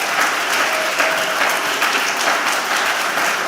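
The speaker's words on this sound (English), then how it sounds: "I'm going to ask everybody to hold your applause" A crowd at a community board meeting applauds steadily, a dense wash of clapping hands sustained at even loudness from start to end.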